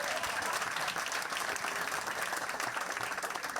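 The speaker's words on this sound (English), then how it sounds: "Big round of applause from Mum right here." A small crowd applauds steadily at a fan Q&A event, the clapping dense and even throughout, with faint voices behind it.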